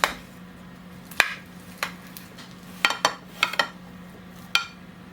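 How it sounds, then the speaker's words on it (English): Spoon and plate clink as they are handled in a home kitchen serving corned beef hash: sparse, sharp metallic and ceramic taps, about eight scattered knocks over a low background hum. "Let's have a spoon and a plate."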